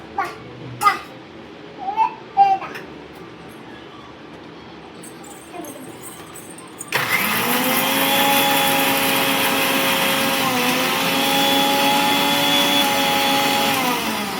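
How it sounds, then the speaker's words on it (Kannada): A kitchen mixer grinds curry leaves and garlic for tomato rasam, starting abruptly after a few quiet seconds of faint voices and clinks, then running as a loud, steady whirring drone to the end. "ಫಸ್ಟು ಕರಿವಿದ್ವಲ್ಲ ಅವನ್ನ ಹಾಕೊಂಡು ರುಬ್ಕೋಬೇಕು, ಆಮೇಲೆ ಬೆಳ್ಳುಳ್ಳಿ ಹಾಕೋಬೇಕು."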